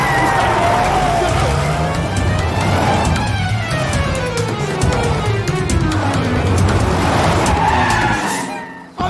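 A tempo vehicle roars off at speed with loud, sustained tire skidding and squealing, the engine straining over a dense rush of road noise and a pitch that slides downward, close and intense throughout before cutting out abruptly.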